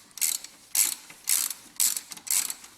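Close, crisp clicking bursts from a socket ratchet working a bolt loose on the alternator bracket of a Ford 5.4L or 4.6L V8, five quick ratcheting strokes in an even rhythm with pauses between.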